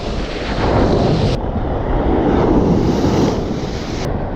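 Choppy sea waves surge and break at a shore on a windy day, forming a loud continuous roar with heavy wind buffeting the microphone.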